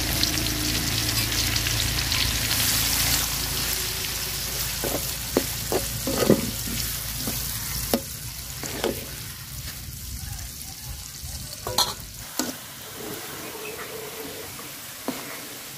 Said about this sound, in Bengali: তো পেঁয়াজগুলো ভাজা নিব।